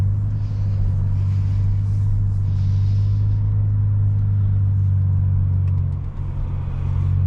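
A 2019 Infiniti Q60 rolling into a parking lot, heard from inside the cabin as a loud, steady low engine and road rumble.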